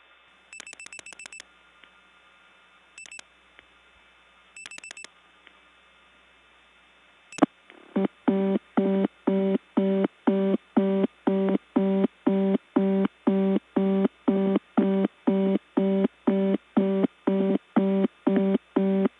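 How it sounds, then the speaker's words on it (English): Reorder tone from a step or Stromberg-Carlson XY telephone exchange in 1979 follows a few short dialing clicks and brief tones, then pulses in a fast, even on-off pattern, loud and clear for the rest of the clip. "I dialed 7441, and I got the same reorder as when I dialed 7241"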